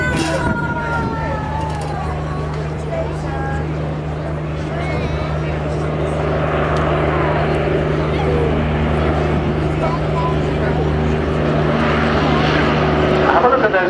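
An Avro Lancaster bomber drones overhead at a seaside air show, its steady multi-engine propeller hum loud and continuous, gradually swelling, while a commentator talks over it.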